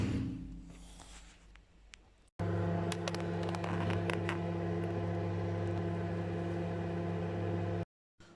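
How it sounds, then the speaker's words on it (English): A 1200-watt microwave oven runs on high while cooking crayfish, giving a steady close hum with low mains-like tones that stops abruptly partway and then resumes, with a brief quieter start before it. "I'll put it in for 8 minutes on a 1200 on high on a 1200 watt microwave"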